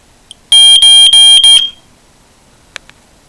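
BRK 79DCRI smoke alarm under test, sounding one loud, shrill electronic beep pattern of four rapid pulses up close, then quiet with a couple of faint clicks.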